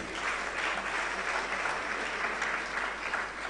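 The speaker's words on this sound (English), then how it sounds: "We can give him a round of applause" A crowd at an outdoor book launch in a Blantyre garden gives a steady round of applause for a donation of books to secondary schools, with dense clapping sustained evenly throughout.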